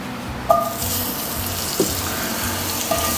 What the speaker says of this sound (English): Next, we're going to melt some butter.